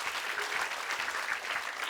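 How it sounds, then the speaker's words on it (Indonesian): A studio audience applauds a guest's mother on an Indonesian TV comedy show, with steady, dense clapping heard alone throughout the short stretch. "Kita berikan tepuk tangan untuk ibunda dari Mbak Suci"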